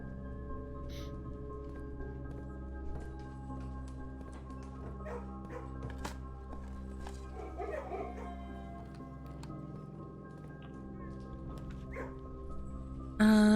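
Dogs barking and yipping in the Kennel room of Blue Prince, short faint barks scattered over a steady droning music bed.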